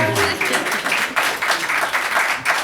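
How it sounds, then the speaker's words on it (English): Audience applause at a city council meeting, loud and sustained clapping from a crowd filling the room for a few seconds. "No clapping."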